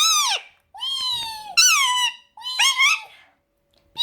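A ring-necked parrot gives a series of four bright, squeaky whistling calls with rising and falling pitch, each roughly half a second long and separated by short pauses, close and clear.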